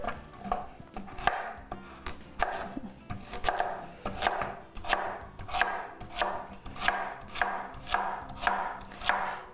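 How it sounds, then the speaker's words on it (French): A knife chops a carrot on a board in a kitchen, a close, steady run of crisp, evenly spaced strikes, about two per second, with no talking. "Je suis en train de couper la carotte"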